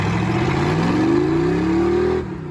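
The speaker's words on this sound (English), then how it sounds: "The nice thing about having a Chevy V8 and a little Jeep is you can do this." A Chevy V8 fitted in a little Jeep CJ5 hot rod revs hard and close, its pitch climbing steadily for about two seconds before the throttle snaps shut and the engine drops back.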